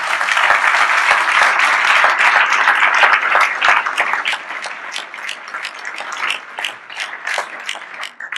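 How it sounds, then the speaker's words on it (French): Loud, dense applause from a large audience honoring Joseph Arakel at an award ceremony, sustained clapping that thins toward the end into more distinct individual claps. "une première question à Joseph Arakel qu'on peut applaudir pour son action"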